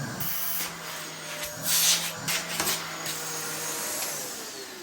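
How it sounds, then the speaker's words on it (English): A 2004 Dyson DC14 upright vacuum cleaner runs steadily close by, giving a constant high-pitched whine and airy hiss, with a few brief surges in pitch and loudness as it moves, and no one talking. "The DC14 is a very underrated vacuum."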